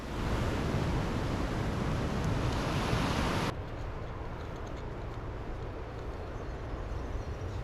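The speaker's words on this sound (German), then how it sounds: "Die Wellen sind hier nicht so groß. Heute aber schon." Steady broad surf from ocean waves breaking on an Australian east coast beach near Pacific Palms, a continuous loud wash that drops to a softer roar partway through, with no voices.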